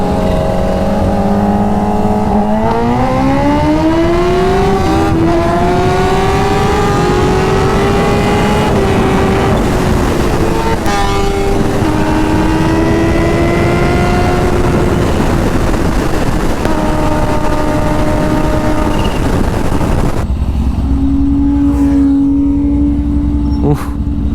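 A new Toyota Supra revs loudly and drives past, its engine note climbing in pitch through repeated pulls and shifting near the end, with heavy wind rumble close to the microphone.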